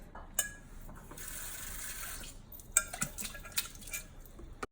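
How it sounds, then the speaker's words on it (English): Dishes being washed in a sink: water runs while cutlery and dishes clink and knock against each other in several sharp, scattered clatters over a continuous flow, fairly quiet and close, with no voices. "This is not how you wash dishes."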